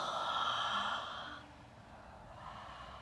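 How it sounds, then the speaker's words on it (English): A deep yoga-class breath let out through the mouth in downward facing dog, one long breathy sigh that fades over about a second and a half, close and alone. "Take a deep breath in. Exhale out the mouth."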